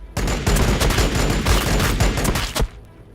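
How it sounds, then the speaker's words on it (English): Rapid volleys of pistol fire in the Warhammer 40k Battlesector war game, dense overlapping cracks rattling on for nearly three seconds, loud and close, then cutting off to a quieter tail, no talking. "I guess these guys will use their pistols on them."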